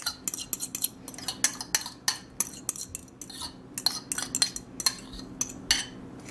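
A spoon or whisk clinks and scrapes against a bowl while dry gluten-free muffin ingredients for tiger nut flour zucchini muffins are mixed. The sharp taps come in a steady, quick rhythm, close and fairly quiet, with no talking.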